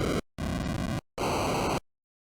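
NES noise-channel sound effects from an NES VST plugin: three bursts of harsh, static-like 8-bit noise, loud and alone, with short gaps between them.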